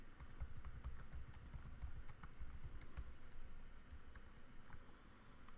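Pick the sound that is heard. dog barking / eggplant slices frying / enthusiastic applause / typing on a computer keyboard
typing on a computer keyboard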